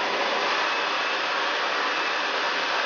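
A hair dryer with three temperature and speed settings, just switched on: a steady, loud, even whoosh of blowing air that continues unbroken throughout.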